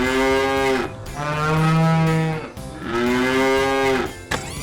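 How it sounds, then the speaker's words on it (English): A cartoon construction vehicle, a wrecking ball truck, lets out two long, loud, cow-like moos, each drawn out with a brief pause between them. "We've got you mooing like a cow."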